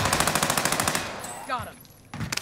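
Rapid PP Bizon submachine gun bursts in Call of Duty: Warzone, a fast loud string of shots for about a second, followed by quieter game effects and a brief final burst.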